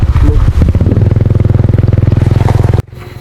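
Motorcycle engine close by, a loud rapid pulsing chug that holds steady for nearly three seconds and then cuts off abruptly, leaving quieter background.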